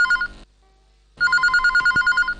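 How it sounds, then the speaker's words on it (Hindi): A telephone rings for a radio phone-in call: one short trill, a brief silence, then a longer run of rapid electronic ring pulses, loud and close. "पसंद के गीतों का सिलसिला शुरू होता है पहले फोन कॉल के साथ।"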